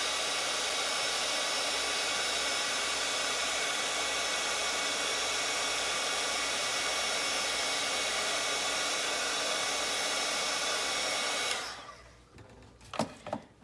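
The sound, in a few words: heat tool melting embossing powder on paper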